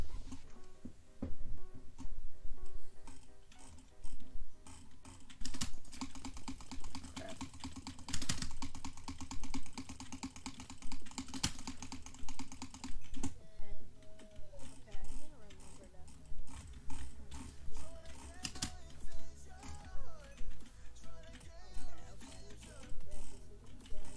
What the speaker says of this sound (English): I can aim better with butterfly clicking